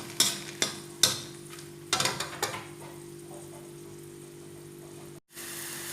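Ingredients for a Thai pork leg tom yum soup fry in hot oil, with a few sharp stirring knocks at the start, then a steady, close sizzle that runs alone until a brief cut near the end.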